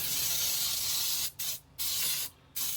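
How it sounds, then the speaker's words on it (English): Three steady hissing bursts of floured cooking spray into a cake pan, close up, with short quiet gaps between them. "I'm just going to use my cooking spray, floured cooking spray."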